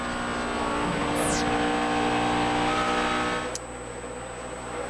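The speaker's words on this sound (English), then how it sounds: "'55 car, Michael Waltrip, and the 9 car of Casey Kane racing on the track" NASCAR race cars roar around the Texas track during the 2008 Dickies 500, a dense continuous engine drone with one car whining past, fading slightly toward the end.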